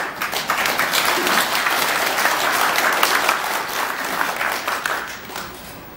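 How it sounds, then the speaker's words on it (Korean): An audience at a high-school alliance year-end forum applauds to welcome the chairman, a full, sustained round of clapping from many hands that stays loud throughout and fades slightly near the end. "먼저 나라 지킴이 고교 연합 김민주 회장님을 박수로 환영해 주십시오."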